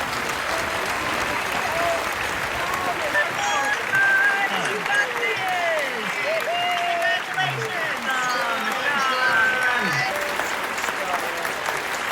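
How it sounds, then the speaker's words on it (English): Faculty applauding graduates at a university commencement, a dense, continuous round of clapping that stays loud and even throughout, with faint voices mixed in. "Faculty, please join me in giving your students a well-deserved round of applause."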